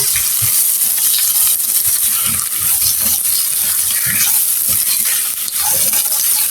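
Ground black pepper and dried chili powder being mixed together for a potato and pointed gourd fry, with close, quick stirring scrapes and light clicks over a faint sizzle.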